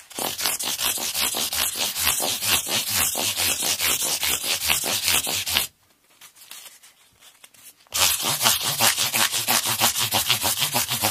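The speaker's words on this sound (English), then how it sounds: "We're sanding these things down now" Sanding a part of a Stratocaster copy guitar by hand, with loud, close, rhythmic back-and-forth rasping strokes that run steadily, pause for about two seconds, then resume at the same pace.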